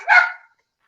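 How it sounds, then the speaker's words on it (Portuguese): A single sharp dog bark, close and loud, cut off abruptly and followed by silence. "cachorros latindo"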